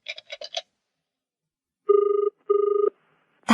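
A telephone rings twice in steady electronic double bursts after a quick run of button tones, the rings clean and close against silence, with a faint noise at the end.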